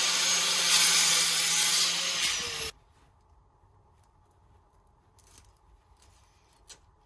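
Cutters slicing through material on a BMW E30 3.0L, a steady loud rasping cut lasting a few seconds that stops abruptly, followed by quiet with faint small handling noises.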